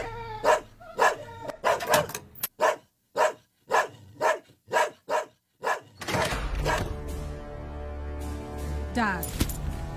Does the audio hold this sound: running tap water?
no